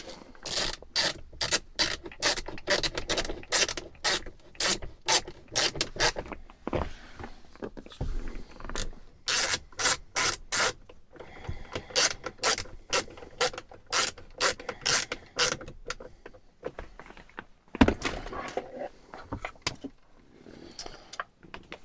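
Screws being reinstalled during an auto start-stop delete job make a long run of close ratcheting clicks and scraping bursts in rapid, uneven rhythm with brief pauses.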